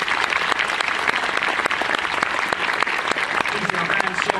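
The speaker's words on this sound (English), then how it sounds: "Jason Milgram, give him a round of applause" An audience applauds a named person at an event, dense steady clapping filling the room for the whole stretch, close and loud with no pause.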